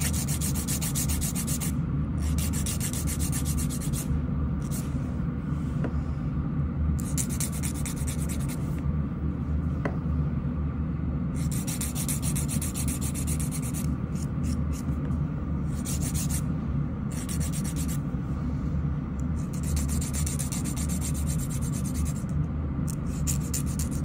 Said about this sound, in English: But then you can smooth it with a buffing block.